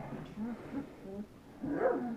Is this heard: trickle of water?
no